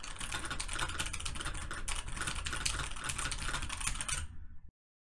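Rapid typing on a QMK-compatible keyboard, a dense run of close, brisk clicking keystrokes that continues steadily for about four seconds and then stops abruptly.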